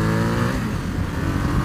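A 2019 Ducati XDiavel S motorcycle, still breaking in, roars while being ridden, its engine note close and loud with a steady drone that dips slightly then rises again.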